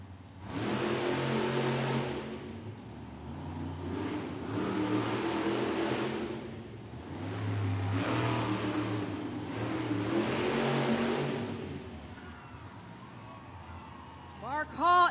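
The Raminator monster truck roars through several loud, surging revs with brief dips between them. Big engine noise fills a Monster Jam arena event in Hidalgo, Texas, and crowd and announcer sound run underneath.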